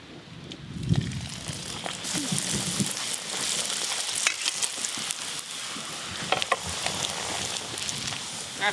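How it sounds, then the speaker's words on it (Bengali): Bhature dough frying one at a time in hot oil sizzles and crackles steadily and loudly, with bursts of bubbling and spatter throughout and no talk. "তেল বেশ ভালো করে গরম হয়ে গেল, এবার ভেজে নেব। একটা একটা করে ভাজবো।"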